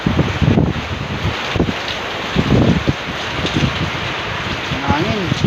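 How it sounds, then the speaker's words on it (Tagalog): Strong wind buffets the microphone in low rumbling gusts during a rainstorm in Norzagaray, Bulacan, Philippines, with voices talking intermittently in Tagalog over it. "Lakas ng hangin."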